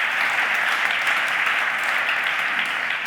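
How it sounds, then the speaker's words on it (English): Audience at a conference summit clapping together, a dense, even wash of applause filling the whole moment, fairly loud and with no other sound over it. "You can clap."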